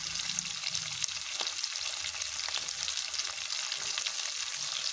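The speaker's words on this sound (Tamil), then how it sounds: "இப்போ பரண்டை சேர்த்து வதக்கிடலாங்க" Pirandai sautéing in a pan with onion and green chili gives a steady, continuous sizzle with faint stirring scrapes, close and alone with no talking.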